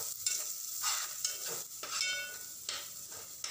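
Ginger-garlic masala with half a spoon of turmeric sautéed in oil for a shark fish curry. A soft, fairly quiet sizzle is punctuated by several distinct spatula scrapes against the pan.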